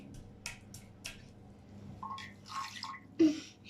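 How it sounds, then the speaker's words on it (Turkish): A wet cloth is wrung out by hand after washing, giving several short drippy squishes and splashes of water, close and fairly quiet, ending in a sharper squeeze. "Yıkayalım, sıkalım iyice, sıkalım."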